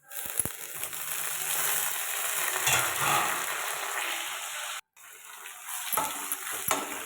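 Chopped tomato goes into onions already sautéed in a pan for a prawn and green banana thokku, giving a steady close sizzle with a few clinks and a brief pause, no talking.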